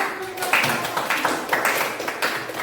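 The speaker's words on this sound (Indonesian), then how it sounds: "berikan tepuk tangan dulu" Students in a classroom give brief applause, a loose patter of scattered hand claps at moderate volume over a steady room hiss.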